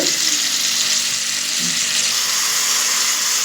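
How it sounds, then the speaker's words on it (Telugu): Chopped tomatoes fry in a pan on a stove for a tomato peanut chutney, giving a steady, close hiss of sizzling that runs unbroken with no voices. "కొంచెం ఫ్రై అవ్వనివ్వాలండి టమాటా కొంచెం మగ్గిపోయే వరకు"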